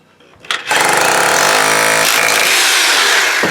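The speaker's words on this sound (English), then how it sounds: "So let's go to the hammer drill and you notice a big difference." A hammer drill bores into an 8-inch concrete block wall, starting with a brief burst and then settling into a loud, continuous, harsh rattling roar that stays close and steady to the end.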